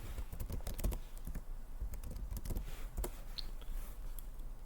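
Login username and password being typed on a computer keyboard, quick bursts of close, crisp key clicks with short pauses between them, no talking.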